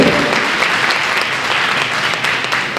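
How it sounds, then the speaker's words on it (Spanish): Steady, dense applause from an audience greeting a jewellery designer at a jury presentation, filling the whole stretch evenly without any talk over it. "Fuerte aplauso para ella."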